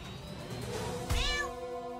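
A cartoon cat in the video game South Park: The Stick of Truth lets out a single loud, drawn-out meow over a low background hum during combat.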